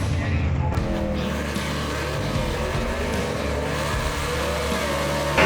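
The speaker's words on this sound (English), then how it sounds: "Alfred Adams lets the clutch out a little too soon and rolls the beam" A 1955 Chevy gasser drag car at the start line of a drag race, its engine roaring loud and steady throughout, revving under a continuous heavy rumble with crowd and track noise behind it.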